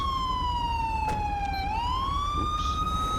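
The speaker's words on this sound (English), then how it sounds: "Let me shut this siren off on this bike." A police motorcycle siren with ELS lighting, in GTA V with the LSPDFR mod, wails loud and steady, sliding down in pitch and then sweeping back up, with no talk.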